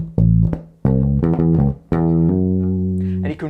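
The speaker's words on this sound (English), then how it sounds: "And you can really hear how the hammers and the slides add that subtlety into the bass line" Bass guitar playing a full bar of an intermediate riff with hammer-ons and slides, several close, sustained low notes running smoothly into one another, alone.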